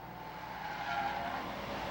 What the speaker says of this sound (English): as Kevin Brackett spins out here and battles for control